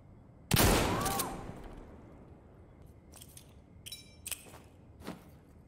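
In Insurgency Sandstorm, a mounted machine gun fires a loud, sharp blast through a building, which decays over a second, followed by a few fainter scattered shots and clicks.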